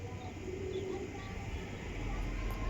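Soft, low cooing from a pair of Salara pigeons, steady and close under a constant background hum, with no speech.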